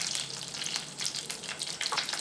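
Mustard seeds sizzling in oil with melting butter for a paneer masala dosa, a soft continuous crackling fry with faint popping, quiet and close.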